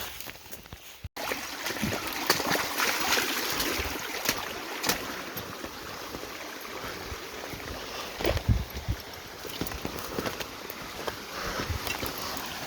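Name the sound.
creek water flowing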